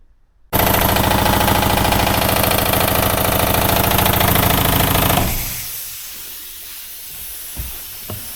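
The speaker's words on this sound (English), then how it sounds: "I'm gonna go ahead and throw this on the shaker, let it do its thing for a few minutes" Paint shaker machine vigorously rattling a can of sealer paint, a loud buzzing, hissing mechanical shake that starts abruptly, holds steady for several seconds, then cuts back to a quieter hum.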